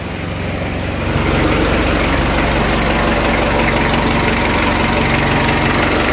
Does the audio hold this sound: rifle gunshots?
no